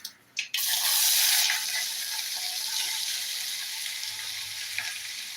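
A loud burst of hissing sizzle as onions hit hot oil in a small pressure cooker, settling into a steady frying crackle with no voices.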